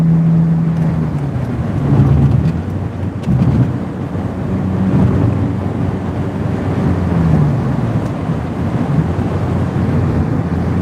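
A BMW E85 Z4 cruising on the freeway: steady, loud engine and road drone with strong wind rush throughout, low rumbling tones shifting slightly, no voices.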